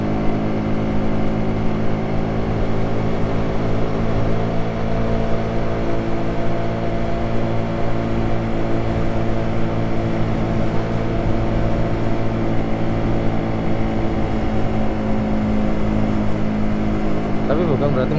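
A Suzuki GSX-R sport motorcycle converted to a naked bike, its engine holding a steady droning hum throughout while riding, heard under someone speaking the whole time.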